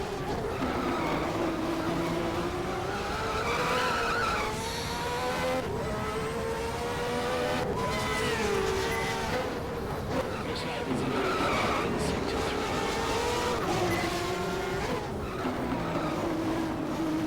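A race car in the racing game GTR2 at Mid-Ohio slides and skids with long, wavering tire squeals over a steady engine drone throughout, while a voice talks over it.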